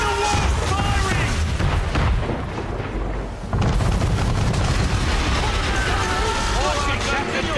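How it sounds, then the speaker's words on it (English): A man-of-war warship's cannons fire in an Assassin's Creed 3 naval battle: heavy, continuous booms and blasts with a brief lull midway, while shouting voices come through. "Man of war firing!"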